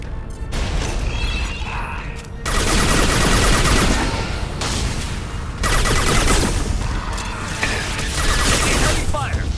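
Heavy gunfire and anti-ship battery fire in the video game Mass Effect 2, loud continuous rattling bursts with mechanical clatter, broken by a couple of brief gaps, with speech mixed in.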